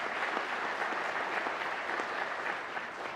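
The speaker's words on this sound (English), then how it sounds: "Would you give yourselves a round of applause for your sacrifice and service" Steady, dense applause from a large audience fills the hall at a police recruit class graduation in Columbus, continuous and even for the full few seconds.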